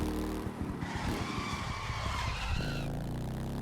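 Car tires skid and screech through a sharp corner in The Crew 2, a loud continuous squeal over engine roar lasting a few seconds before easing off.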